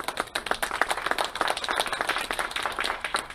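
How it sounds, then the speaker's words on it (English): An audience at a formal meeting with a visiting minister breaks into applause, a dense, steady crackle of many hands clapping at moderate distance, sustained without pause for several seconds. "I'd like to ask you to give him a big round of applause."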